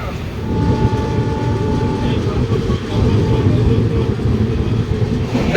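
Rupashi Bangla Superfast Express pulling out from platform one on the Santragachi–Purulia run, a steady low rumble of rolling rail cars with faint clatter, continuous and close throughout, with some voices mixed in.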